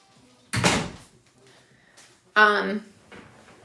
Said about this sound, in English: my dog's pushing my door open